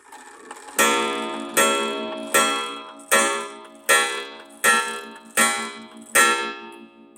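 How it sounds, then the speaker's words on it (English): An E.N. Welch gravity clock's gong, driven by its pulley setup, strikes eight times at an even pace. Each loud, close metallic stroke rings out and decays before the next. "Now that pulley setup right there is for the gong."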